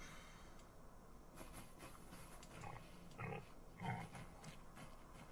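Pigs in the farm game Farming Simulator 25 give a few faint grunts and oinks over a steady ambient farm background, with two somewhat louder snorts near the end.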